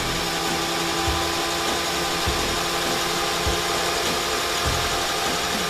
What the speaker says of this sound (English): The motor operates at high RPM.